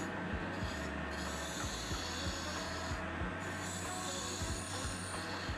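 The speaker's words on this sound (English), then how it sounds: "I now switch to the carbide diamond detailer. This will allow me to shape the underside of the ring." A carbide diamond detailer shapes the underside of a captive ring on a wooden baby rattle turning on a lathe, giving a steady, close rasping scrape over the lathe's hum with repeating soft ticks and no voices.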